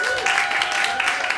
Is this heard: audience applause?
yes